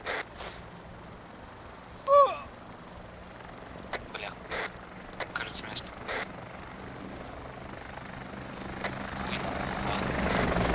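A helicopter flies overhead in the video game ArmA 2, its low rotor drone building steadily toward the end, with brief clicks and beeps and people talking over it.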